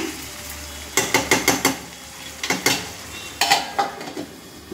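A spoon stirs Mughlai chicken curry in a pan, giving close, bright metallic clanks and scrapes in quick bursts over a soft sizzle.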